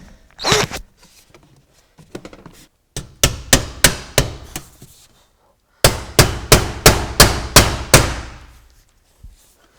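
Nails are hammered into a roof ridge vent with loud, sharp close blows, first a short irregular group, then a quick even run of about six strikes with pauses between sets.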